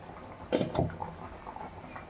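Coconut curry gravy simmering in a pot, giving soft, close bubbling with a couple of brief louder pops early on, then quiet gurgling with no voices.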